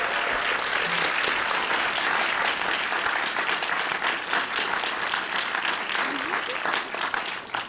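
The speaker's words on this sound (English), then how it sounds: "we'll give one more round of applause to Lulu Wang" An audience at a UCLA film Q&A applauds the director, sustained dense clapping that holds strong throughout and begins tapering at the very end, with a few voices faintly underneath.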